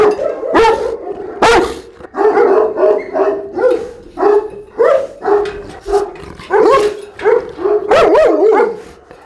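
Several dogs bark and yip in a steady run of loud, close, overlapping barks, with an occasional whimper between them and no talk.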